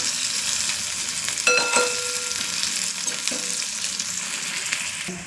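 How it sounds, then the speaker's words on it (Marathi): Stuffed bitter gourds (bharli karli) sizzling in a pan after the lid is removed, a steady close frying hiss with brief scraping clinks as they are turned, no talking. "मी आता हे झाकण काढत आहे नाही कारेली फिरवून घेत आहे"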